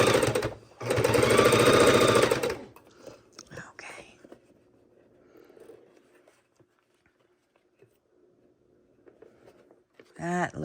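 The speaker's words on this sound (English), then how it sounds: "Let's go ahead and sew down another 2 or 3 inches." A sewing machine stitches down quilt binding in a loud, rapid burst for about two seconds, then goes quiet apart from faint handling rustles and a short whirr of stitching again at the end.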